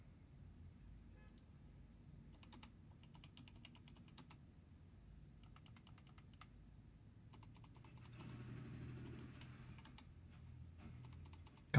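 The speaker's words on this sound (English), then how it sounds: "Just typing away here." Quiet computer keyboard typing in bursts of rapid clicks with short pauses, close and clear over a low background hum, with no talking.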